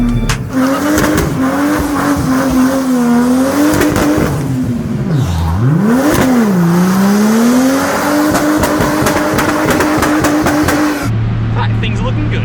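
A loud tuned Ford Barra engine in a GU Nissan Patrol revs continuously on a dyno, its pitch climbing, dipping sharply and climbing again before holding steady, then cutting off abruptly near the end.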